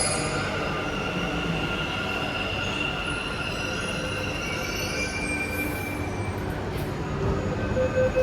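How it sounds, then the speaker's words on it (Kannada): A metro train rolls into a station with a loud continuous rumble and rising wheel squeal as it approaches and slows, with no voices. "ಸೊ ಮೆಟ್ರೋ ಬರ್ತೈತೆ"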